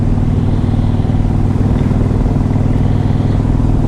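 A 2003 Kawasaki Vulcan 1600 V-twin motorcycle cruises along at a steady pace, its engine a smooth, continuous low rumble with an even throb that stays loud and close throughout.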